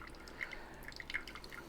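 Coffee drops falling through during brewing, a few small, close, delicate drips landing at irregular moments over a soft background hiss.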